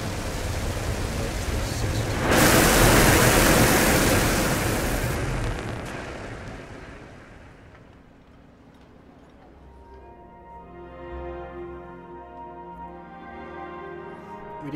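Rocket liftoff for the Horus launcher in the space strategy game Mars Horizon: a broad roaring rush swells loudly, holds, then fades into a softer rumble as calm music rises underneath, with brief speech.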